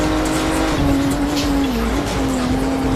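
A BMW 135i Coupe idles and revs at the start line in Need for Speed Shift at Donington, a steady loud engine drone with a wavering pitch, held close and constant.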